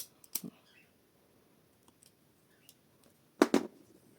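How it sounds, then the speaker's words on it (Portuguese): Scissors snip a piece of crochet yarn: a crisp pair of close clicks at the start, a near-silent pause with faint rustles, then a louder double snip near the end. "Agora, eu vou aqui cortar um pedaço do fio"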